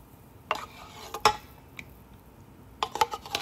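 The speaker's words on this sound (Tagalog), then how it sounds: "sinisimot natin yung condensed milk natin para walang sayang" A utensil scraping condensed milk from its can while making leche flan, giving a few short, sharp metallic scrapes and clinks spaced apart over a quiet background, with no talking.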